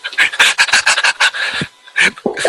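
A person imitates a panting dog with a string of quick, breathy huffs in short bursts, close and loud, with a brief pause before a few more pants.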